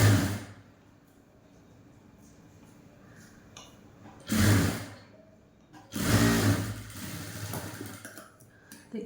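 A sewing machine stitches a blouse hook strip in two short motor bursts, a brief run and then a longer one, over a quiet low hum.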